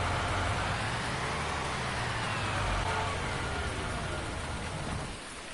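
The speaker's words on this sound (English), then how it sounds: "Hopefully when we get up, the rain will be gone." Steady, dense rainfall in Farming Simulator 19, a continuous wash of loud hiss with no voices, easing slightly in level at the very end.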